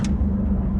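Porsche 911 GT2 RS with a 700-horsepower engine warming up under light throttle, a steady low droning rumble heard from inside the car, continuous and fairly loud with no talking.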